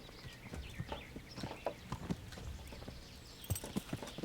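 Horse hooves clip-clop steadily in Kingdom Come: Deliverance, an even walking rhythm of distinct hoof strikes, moderately close but quiet.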